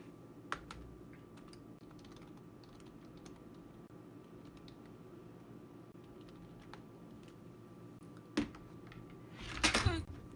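A computer keyboard is typed on at a desk in light, scattered clicks, then a sudden loud clatter and a rattling burst near the end as it is nearly dropped.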